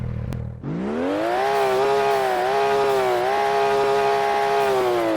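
A McLaren P1 engine in a video game cranks briefly, then catches and settles into a loud, steady, buzzy idle with a strong harmonic whine and slight wavers in pitch.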